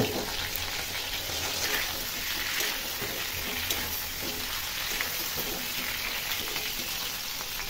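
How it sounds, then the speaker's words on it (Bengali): Potato and cauliflower pieces fry in oil, making a continuous close crackling sizzle that holds an even level from start to finish, with no voices. "এখন আলু এবং ফুলকপিটা তিন মিনিট ভেজে তুলে নিব"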